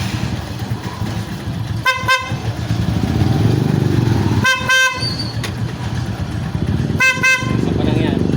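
Newly installed motorcycle horn sounded in three short double honks, loud and close, over a rumbling idling engine and background traffic noise.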